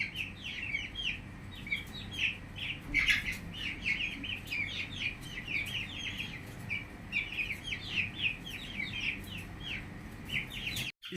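Farm birds including pigeons and chickens, a busy chorus of repeated chirps and clucks over a low steady background hum, moderately near and continuing throughout.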